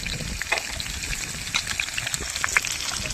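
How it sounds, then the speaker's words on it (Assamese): Chopped onions sizzle steadily in a hot pan, a dense crackling fry with scattered pops and spits, close and fairly loud, with no talking over it. "কাটি থোৱা পিঁয়াজখিনি দি পেলাই অলপমান ভাজি ল'ম"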